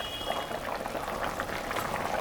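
Magur fish curry broth boiling in a covered pot, a continuous close bubbling and gurgling with a fine watery hiss, steady and moderately loud with no voices.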